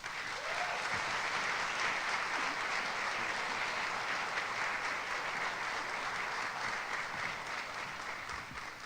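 Audience at a college fall convocation giving a long round of applause, a dense sustained clapping that holds steady at moderate distance for several seconds before easing slightly.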